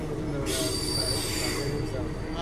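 A passenger train pulling into Erode Junction station, loud rumbling wheels with a high metallic squeal of braking across the middle, continuous and close, with voices underneath.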